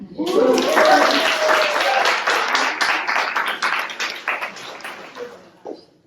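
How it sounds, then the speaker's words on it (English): A crowd claps steadily, the applause swelling at first and then thinning out into scattered claps before fading away. "we need another applause here"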